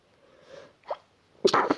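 A single human sneeze: a faint breathy intake, a short catch, then a loud sharp burst at the end, close to the microphone.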